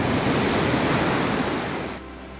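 Surf crashing on a Scottish shore, a loud continuous roar of breaking waves that eases slightly and thins out near the end.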